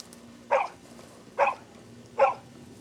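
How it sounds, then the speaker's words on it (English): Three sharp barks from hunting dogs baying a deer, spaced evenly about a second apart, carrying from a distance over a quiet outdoor background. "Sounds like Jessie's got him bayed."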